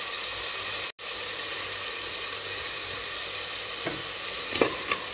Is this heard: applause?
no